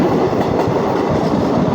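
A passenger train on the Tirupati to Chennai route clatters loudly and steadily over the tracks, heard close up from on board with a continuous rumbling roll of wheels on rail.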